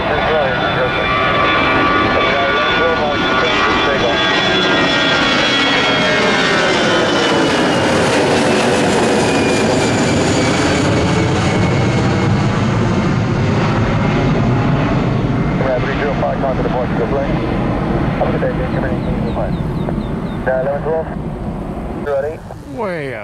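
A Global X jet airliner taking off from runway 30 at Miami, a loud, steady engine roar with a rising and sweeping whine that holds throughout, with voices talking over it.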